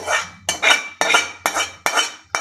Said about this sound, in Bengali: ঢেলে নিচ্ছি, এতে কড়া থেকে বের করে নিচ্ছি বাইরে